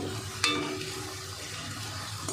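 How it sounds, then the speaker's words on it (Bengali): Urad dal fritters (bora) frying in oil, a steady soft sizzle with a couple of brief clinks, fairly quiet and close, no talking. "দেখুন বন্ধুরা, বড়াগুলো কত সুন্দর ভাজা হচ্ছে।"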